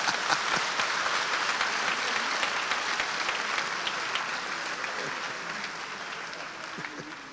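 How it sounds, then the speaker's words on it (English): Church congregation applauding during a sermon: a broad wash of many clapping hands, loud at first and slowly fading, with no talk over it. "Give him a big clap."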